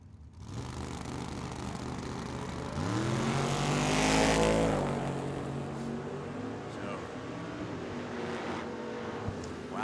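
Drag race cars, including a Barracuda, launching and racing at Tucson Dragway; a loud engine roar swells to a peak around the middle and then fades, with broad crowd and track noise throughout.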